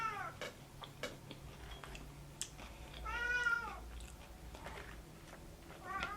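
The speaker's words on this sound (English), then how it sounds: "I don't know if his meowing annoys you" A cat meows loudly and close by in a few drawn-out, rising and falling calls, with small clicks and chewing-like noises around them in an indoor setting where food is being eaten.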